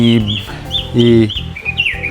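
Birds call out nearby in Kodaikanal, a mix of short chirps and clucking notes repeating over a few seconds with no talking.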